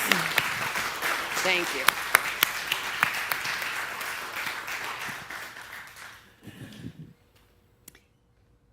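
A congregation applauds practitioners and ministers at a church celebration, dense clapping filling the room for about six seconds before fading out, followed by a brief spoken thanks and near silence.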